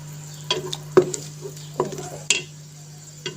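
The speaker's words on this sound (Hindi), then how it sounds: "तो इस टाइम में इसमें ये टमाटर जो मैंने चॉप किया हुआ था एक बड़े साइज़ का, ये मैं इसमें ऐड कर दूँगी।" Large chopped tomato hits a hot pan for masoor dal over a raised flame: a faint sizzle under a low steady hum, broken by several sharp spoon-on-pan clinks and scrapes at irregular intervals.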